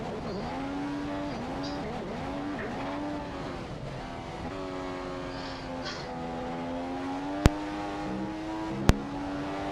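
A Formula One car laps the Silverstone circuit in the Playbox Formula F1 video game, its high engine whine rising and dropping through gear changes and corners, with two sharp clicks near the end.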